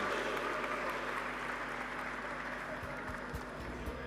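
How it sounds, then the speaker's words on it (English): Audience applause at the TiE Global Summit main stage in Bengaluru as a guest is welcomed on stage, a steady wash of clapping that stays even throughout, fairly distant and without voices over it. "give a huge round of applause"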